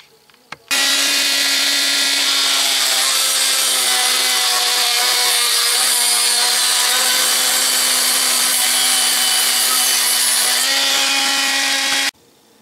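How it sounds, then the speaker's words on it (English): A small Dremel cutoff wheel grinds through a 1/8 inch steel roll pin, a loud, steady high-pitched whine and scream that starts abruptly and stops about eleven seconds later. "some of them I have to cut off to length with the little cutoff wheel on the Dremel"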